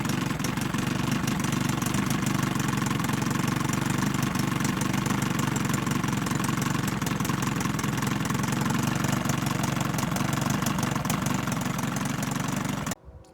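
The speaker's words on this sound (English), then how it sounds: "Maybe I can try to speed up the idle." A 1980 Evinrude 15 outboard motor idles steadily and loudly, with an even low-pitched putter that runs unchanged for about thirteen seconds before cutting out abruptly.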